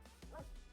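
A puppy in Minecraft gives a soft, brief yip, faint and close, lasting under a second with a quiet background.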